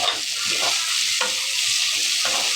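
Broad beans fry in a hot pan with a constant loud sizzle, while a utensil stirs them in several distinct scraping strokes spread through the sizzle.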